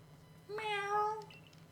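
A cat Pokemon in Pokemon Legends gives a single short, clear meow, sweet and slightly rising, heard alone over a faint steady hum.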